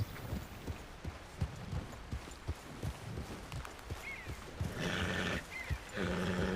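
Hooves of a horse clop at a slow, irregular walk in cold weather, soft thuds spaced about a third of a second apart, joined near the end by a brief higher animal call or creak.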